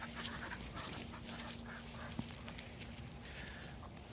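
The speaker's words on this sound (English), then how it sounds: "the ducks help me round up the chickens" Ducks on a homestead quack faintly amid a busy, scuffling outdoor background while helping herd chickens into a cage, with footsteps and a sharp knock partway through.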